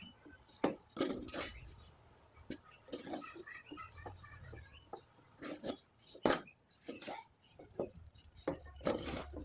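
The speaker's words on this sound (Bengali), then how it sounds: "আর এখন খুব ভালোভাবে নেড়েচেড়ে ডোটাকে আমি তৈরি করে নেব" A spoon stirs thick chana dal pitha dough in a metal pot, giving repeated scraping, clanking strokes in an uneven rhythm, close and fairly loud.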